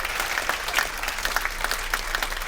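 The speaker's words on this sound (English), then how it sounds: "please give her a rapturous applause" Warm audience applause at a talent show, dense steady clapping close by for a few seconds with no talk over it.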